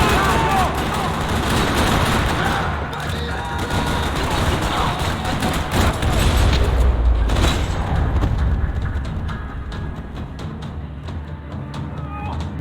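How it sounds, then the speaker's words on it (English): Sustained gunfire in a parking lot during a Max Payne 3 shootout, dense rattling bursts and booms filling the whole stretch at steady loudness, with the mix thinning slightly toward the end. "Another parking lot rattling with gunfire."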